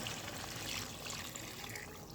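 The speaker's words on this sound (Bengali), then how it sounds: "এটা ঝোলের জন্য গরম পানিটা দিয়ে দেবো" Hot water being poured into a pot of chicken curry, added for gravy in a potato-and-chicken dish; a steady, close splashing pour with a continuous watery rush and no talk.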